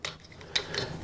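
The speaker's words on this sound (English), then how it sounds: "And then again, you use the little wrench tool." A small wrench tool clicks as it tightens the adjustable hosel of a TaylorMade R11S golf driver, giving a few quiet, close ratcheting ticks over about a second, with no talk.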